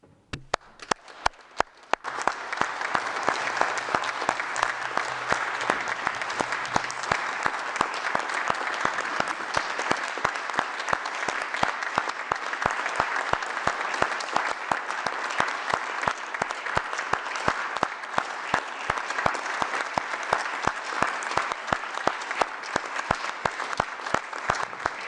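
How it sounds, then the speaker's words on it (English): Large assembly audience at the World Health Assembly clapping for health and care workers, a sustained roar of applause with sharp individual claps and thumps throughout, continuous and even for the whole stretch, heard without talk. "Please join me in clapping, shouting, and stamping your feet for every health and care worker"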